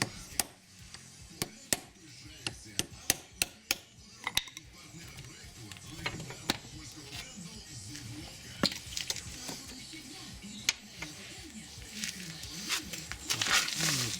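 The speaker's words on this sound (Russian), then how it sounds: "сверху трубочкой такого же диаметра припрем его и будем выбивать" A stabilizer bushing on a Mercedes W210 is hammered out using a 24 mm socket and a tube, giving sharp metallic blows that come in loose, irregular runs over background workshop noise.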